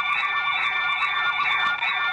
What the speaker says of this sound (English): the system automatically blocks the call function and keeps the alarm sound on until a nurse attends the patient